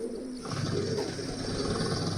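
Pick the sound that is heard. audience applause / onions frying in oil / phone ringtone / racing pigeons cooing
racing pigeons cooing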